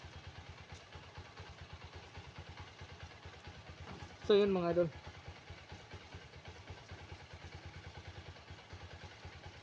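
A motorcycle idles in a steady, low mechanical putter at a home laundry area on a day off. Someone talks over it and a brief louder burst sounds midway.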